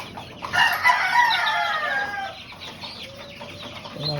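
Chickens and young chicks at a poultry farm hit by monsoon rain damage: a rooster crows loudly close by, with clucking and chick peeps, and no one talks.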